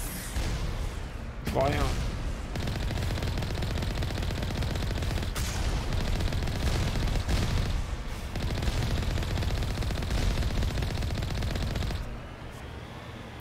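Small turrets around a research outpost in the game Mass Effect fire rockets in a sustained barrage of dense, booming blasts with sharp bursts over steady rumble, while a voice speaks briefly.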